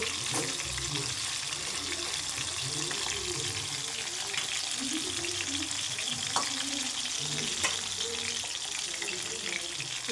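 Chicken pieces frying in hot oil give a steady, loud sizzle and crackle that runs the whole time, with faint stirring and occasional clinks mixed in.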